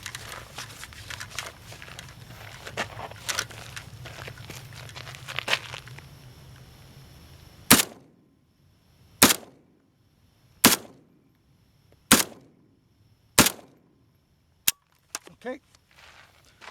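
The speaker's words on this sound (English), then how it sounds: "I always flinch on the last shot because I'm counting the bullets" An AK47 rifle fires at a target in front of a sand berm outdoors: six sharp, loud single shots spaced about a second and a half apart, each ringing off briefly, after some handling noise and a quiet spoken word.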